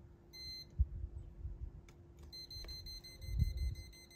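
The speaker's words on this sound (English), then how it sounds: "you should get a red beeping sound" Thin, high electronic beeps from a voltage wire tester repeat in short bursts against low handling noise and faint rumble, with a couple of sharper knocks.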